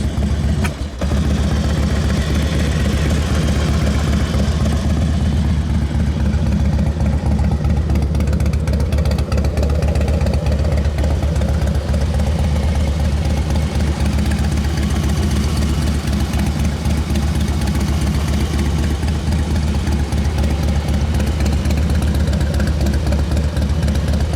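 A 2005 Harley-Davidson Dyna motorcycle with a rebuilt powertrain, new plugs and plug wires, idles steadily, a loud, continuous low rumble with a blip at the start and no talk.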